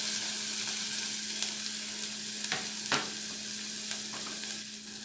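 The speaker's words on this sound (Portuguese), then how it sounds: "deixar essa cebola dourar" Onion sizzles steadily in a pan on the stove, a constant close frying hiss with a few brief scraping stir strokes partway through and no voices.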